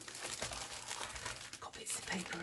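Scraps of paper crinkle and rustle quietly and continuously as someone rummages through loose leftover bits, with a voice talking over the shuffling.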